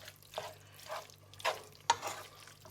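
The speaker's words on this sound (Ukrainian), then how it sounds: "Ще вимішаємо." Bursts of stirring and scraping pasta in a frying pan over a soft sizzle, three or four strokes spaced about half a second apart.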